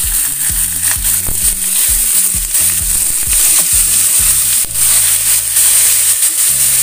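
Chicken pieces hit a pan of frying mushrooms and sizzle loudly, a close, dense hiss with clattering stirring knocks underneath, continuous and without talk.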